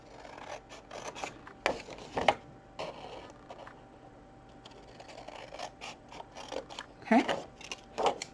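Scissors cut away a section of a paper box in a craft project, giving a series of short crisp snips and rasping scrapes at close range under a faint steady background hum.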